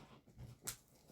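A dog indoors gives a brief, soft whimper with a quick breathy sniff, close by and quiet, in a room shared with a tarantula.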